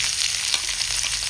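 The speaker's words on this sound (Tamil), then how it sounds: "ஒரு 3 வெங்காயம் பெரிய வெங்காயம் போட்டுக்கிறேன்," Large onions frying in a pan for a snail gravy, a steady bright sizzle that fills the short stretch evenly and close by, with no voices.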